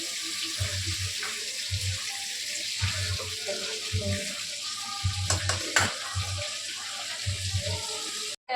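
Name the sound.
chicken frying in oil for biryani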